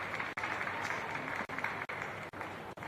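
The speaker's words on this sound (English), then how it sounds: "Draws a round of applause." A stadium crowd at a women's international football match applauds steadily, a broad sustained patter of distant clapping broken by several short cuts, with no talk.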